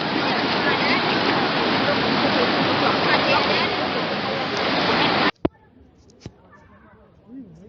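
Rushing floodwater in Piru, Maluku pours in a loud, dense, continuous roar for about five seconds, then cuts off abruptly to near quiet with a couple of faint knocks and a brief voice.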